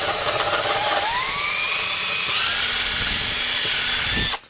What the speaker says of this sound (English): you're just watching me drill